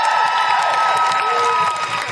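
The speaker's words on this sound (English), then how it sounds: "Can I have a big, big, big round of applause for Kat from Moan Zine?" A comedy show audience breaks into applause and cheering, with a whoop rising above dense clapping from a lively crowd, loud and continuous through the short moment.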